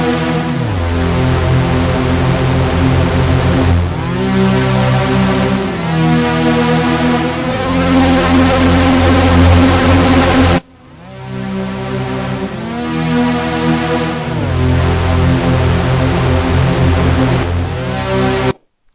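A swelling synthesizer pad in a psychedelic electronic track rises loudly with rich, shifting harmonic tones, sounding through two long phrases that break off abruptly midway and again at the end.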